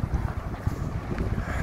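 Strong wind buffets the microphone on a sailing trip near Catania, Sicily, in gusty low rumbles throughout.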